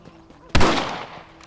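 A single sharp rifle shot cracks loudly and decays over about a second, with quiet room tone before and after.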